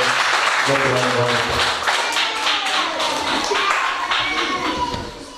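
Guests at a church wedding blessing clap for the bride, a burst of brisk, overlapping hand claps that gradually thin out while a voice speaks over them.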